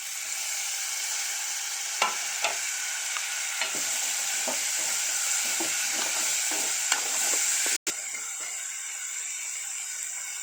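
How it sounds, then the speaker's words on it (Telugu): Tomatoes fry in hot oil in a pan, giving a steady close sizzle broken by several sharp clinks and scrapes of stirring, with no talking. "ఇప్పుడు టమాటా వేస్తున్నా."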